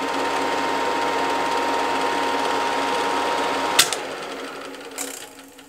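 A vintage 1953 Bolex M8 film projector runs steadily with a loud, even mechanical whir and clatter, then is switched off near the end with a couple of clicks and the motor winding down.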